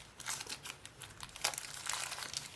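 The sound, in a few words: unwrapping plastic packaging of Apple Watch wireless charger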